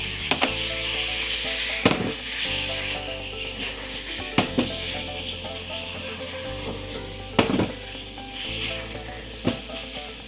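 Sausages sizzle and fry steadily in an oiled pan with a homemade sauce added, while a spatula scrapes and stirs with sharp knocks every couple of seconds over the continuous crackle.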